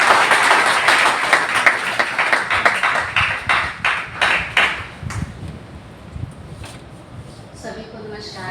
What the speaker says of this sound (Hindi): जोरदार तालियों के साथ स्वागत किया जाए।